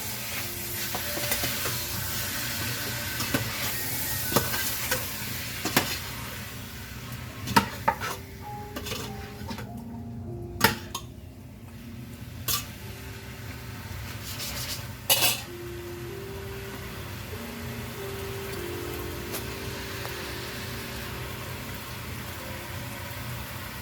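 Ingredients for a modified Cuban ajiaco are stirred and sautéed in a pot, with a steady sizzle running throughout and repeated clinks and scrapes of a utensil against the pot at irregular intervals, no voices.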